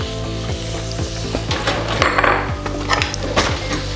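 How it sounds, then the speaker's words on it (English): Onions sautéing in a pan for beet soup, a loud, steady sizzle close by with regular scraping stir strokes and light clinks of utensil on pan, no talking. "we're gonna throw some onions in here and saute"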